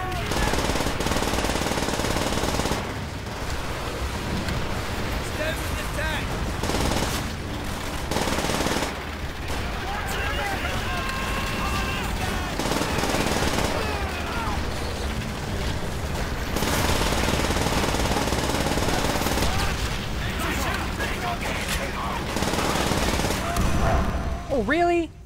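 Rapid bursts of automatic gunfire crackle almost nonstop in Call of Duty: World at War on PC, loud and dense with a few short lulls, mixed with game effects and occasional talk.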